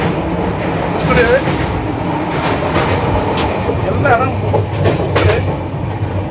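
The Bhubaneswar Chennai Express rolls along its rails with a steady loud rumble and rhythmic clatter, while a person talks over the noise.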